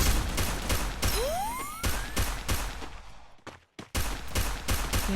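Rapid bursts of gunfire crack repeatedly in a Free Fire game scene, with a rising whistling tone midway and a brief drop to near silence.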